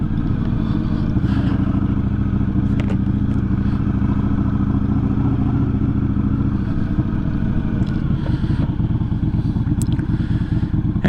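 A road vehicle engine at full throttle in third gear, pulling from about 3,000 rpm: a steady, loud, droning engine note with road rumble that holds continuously, with no voices.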